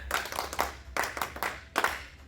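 A classroom of pupils claps for a student's correct answer during a photosynthesis lesson, three short bursts of hand claps, moderately loud and close, with no talk.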